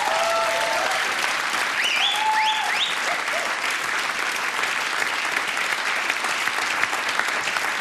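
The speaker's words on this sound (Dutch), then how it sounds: "Nog één keer een groot applaus voor jou als winnaar." A television studio audience applauds the winner at the finale of the Dutch reality game show Wie is de Mol, a long, even wash of many hands clapping with a few brief voices near the start.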